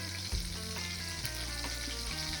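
A burger patty fries in a pan with a continuous close sizzle and crackle, while a low steady hum runs beneath it and no one speaks.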